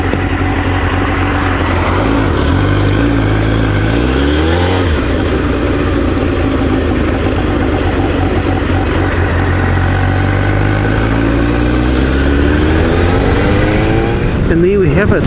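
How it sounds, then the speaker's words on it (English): A motorcycle rides along a country road in Okoia, New Zealand, its engine droning steadily under heavy wind rush while other vehicles sweep past, their engine notes rising and falling as they go by. "Seems to be a lot of traffic about at the moment."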